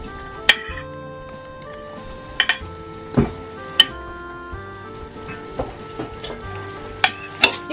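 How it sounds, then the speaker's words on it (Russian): Mushrooms, meat and carrot frying in a kazan, stirred with a utensil that clanks sharply against the metal every second or so over a low sizzle, close and clear. "Также на среднем огне у нас обжариваются грибы с мясом до готовности"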